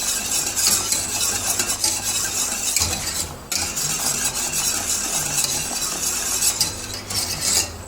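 A whisk scrapes and churns steadily as fine semolina thickens in boiling liquid on the stove for a semolina raisin cake, a continuous close, busy stirring texture with a brief dip partway through and no voices.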